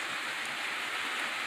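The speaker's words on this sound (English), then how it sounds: "Starting to rain." Rain beginning to fall outdoors, a steady, even hiss of drops hitting surfaces that stays constant and fairly close throughout, with no voices over it.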